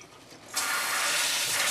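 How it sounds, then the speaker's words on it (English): Ice cold water splashes steadily over cooked noodles in a kitchen, a sudden broad wash of pouring and spattering that starts after a quiet moment and continues evenly, close and alone. "sprinkle them down with some ice cold water"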